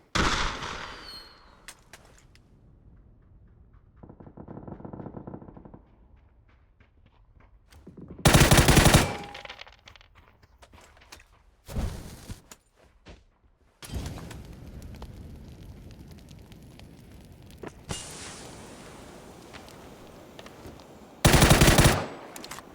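Video game gunfire: loud bursts of rapid automatic shots arrive in several separate volleys, some close and harsh, with quieter gaps of background noise and softer thumps between them.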